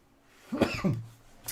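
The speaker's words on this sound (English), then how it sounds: "Sorry, sudden cough there." A single sharp cough, close and fairly loud, with a short throaty rasp trailing after it.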